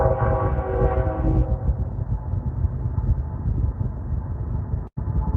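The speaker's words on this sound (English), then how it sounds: "Oh, there's your train again, Carl." A low, steady rumble of a train carries from a distance in Nebraska National Forest, with faint rhythmic thumping and no voices.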